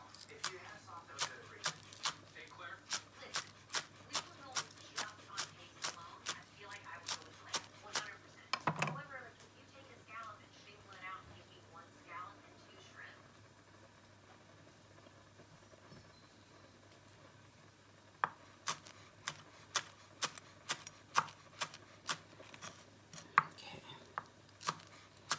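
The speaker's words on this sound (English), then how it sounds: "let me just cut this scallion that I'll be using for the pasta" A knife chopping scallions for shrimp pasta on a cutting board in a small kitchen makes quick, regular, crisp taps in two runs, with a long quiet gap between them and faint background noise.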